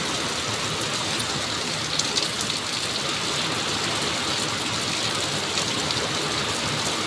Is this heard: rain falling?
yes